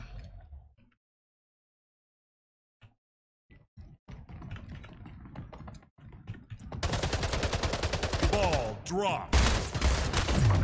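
Rapid automatic gunfire from a weapon in the video game Splitgate, loud dense bursts arriving after a quieter stretch of scattered clicks and keyboard tapping.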